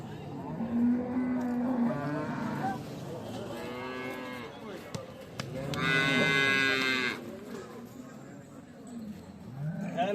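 Several long, loud moos from Holstein Friesian dairy cows follow one another, drawn-out and mournful, over a busy cattle market background with scattered voices.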